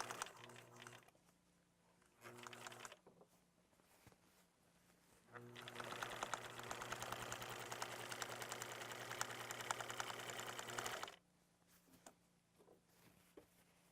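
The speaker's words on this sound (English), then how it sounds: "Now I'm going to sew this seam, again using my stitches as a guide, my previous stitching line." A sewing machine runs a long seam on a pillowcase with a band, a steady fast whirring stitch lasting several seconds, bracketed by softer bursts and quieter pauses with faint background noise.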